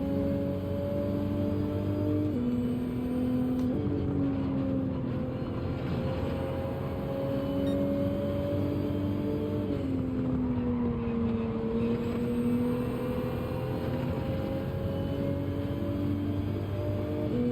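A race car engine in Gran Turismo 7 holds a loud, steady drone at Blue Moon Bay as the throttle is modulated, the pitch dipping and rising gently several times without voices over it.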